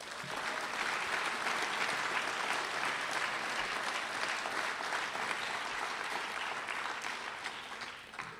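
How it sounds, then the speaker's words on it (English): A banquet audience at a spring agricultural program gives its sponsors sustained, dense clapping that holds steady for several seconds and then tapers slightly. "Let's give one huge round of applause to our sponsors."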